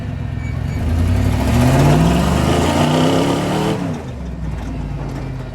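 A car engine, one whose transmission has failed, revs in first gear, its pitch climbing twice in strong sweeps before it drops off and settles to a steady lower drone. The sound is loud and close, with no talk.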